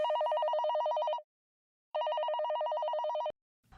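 Telephone bell rings in two long electronic bursts separated by a short silence, clear and steady, ending with a faint click.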